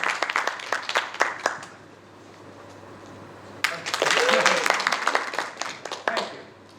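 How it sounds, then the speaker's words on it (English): Scattered audience clapping at a presentation welcoming a speaker, sparse individual claps at first, then a pause, then a fuller burst of applause that tapers off, with a voice talking briefly. "let's give a warm applause to welcome Sean Stewart, the creative director at Magic Leap"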